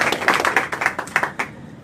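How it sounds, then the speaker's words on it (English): A live audience clapping at an assisted-living community's 25th anniversary celebration, a short burst of scattered, uneven claps that build and then thin out, fairly close, with no talking over it. "we want to clap and certainly thank her"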